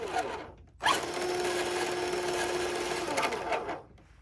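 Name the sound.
RC Hummer H2 crawler motor running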